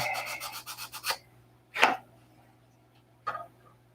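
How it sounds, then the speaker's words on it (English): Dry rasping strokes of sandpaper on a wooden joint, a quick run of about eight rhythmic rubs followed by two separate longer scrapes, close and alone. "I guess we'll sand this off so it's clean."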